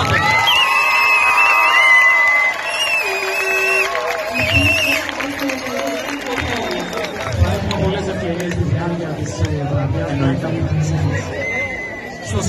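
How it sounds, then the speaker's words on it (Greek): Scout crowd at a closing ceremony in Agrinio, Greece, cheering and applauding loudly, with a dense wash of clapping and shouts under an amplified voice. "θέλω δια του χειροκροτήματος να μας δείξετε πόσο καλά περάσατε"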